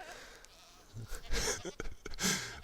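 Goats bleating in Minecraft, several short bleats in a cluster, fairly close, with a faint voice underneath.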